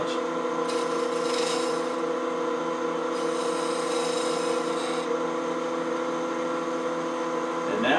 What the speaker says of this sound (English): Now we need to round over this lip to match this one nice and round, so we'll do that with the spindle gouge.